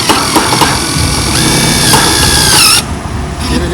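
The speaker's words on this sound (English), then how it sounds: "I use my impact DeWalt." DeWalt impact driver runs in one loud, close burst, driving a screw through metal roofing on an outbuilding, then stops abruptly.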